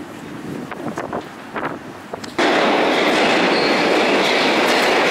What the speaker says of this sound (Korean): 열차는 겁나 빠른 속도로 플랫폼에 진입했다.